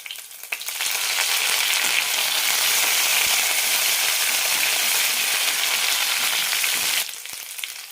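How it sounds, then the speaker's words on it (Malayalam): Onions and green chilies with garlic and curry leaves sauté in hot oil for a peanut curry, a loud continuous sizzle that swells up and holds for several seconds before dropping away, with no speech. "സവാളയും പച്ചമുളകും സവാള ചെറുതായി ചോക്കുന്നവരെ വഴറ്റിയെടുക്കാം"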